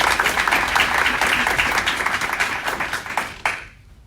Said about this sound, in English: So a big round of applause for Danae.